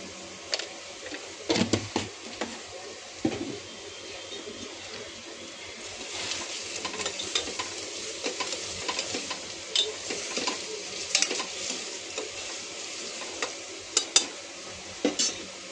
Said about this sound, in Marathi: कांदा चांगला फ्राय होऊ द्यायचा.